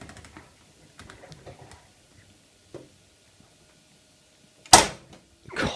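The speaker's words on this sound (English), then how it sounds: "God, such a loud door release." A Miele W562 Prestige Plus washing machine's door release snaps with one sharp, loud click near the end, after several faint ticks and taps in an otherwise quiet room.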